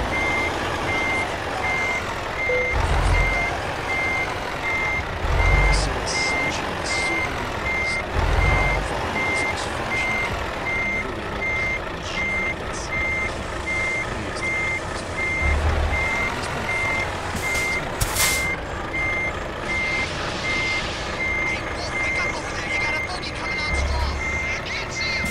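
A truck reversing in Euro Truck Simulator 2, its backup alarm beeping in an even, regular series over a steady engine drone, with someone talking in German now and then.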